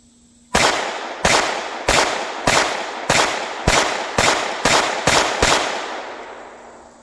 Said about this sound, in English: She shot all 10 rounds.